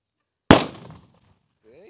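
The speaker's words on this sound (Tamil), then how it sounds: "சல்லுன்னு உருண்டுட்டு போய் வந்து வெடிக்குது" A single sharp bang from a Sivakasi Diwali firecracker, loud and close, trailing off quickly, followed by a brief faint voice.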